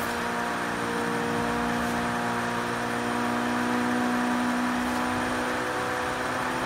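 Loud, steady engine drone of an Abarth Fiat 131 rally car running at high speed in the Forza Horizon 3 racing game, with a sustained tonal hum and no talk.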